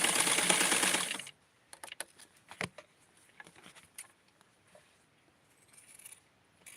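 A sewing machine stitches a bathing suit in a loud continuous run for about a second, then stops, leaving quiet clicks, taps and handling noises of the fabric and machine.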